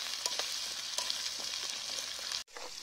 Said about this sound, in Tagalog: Hintay lang natin ma-fry ito.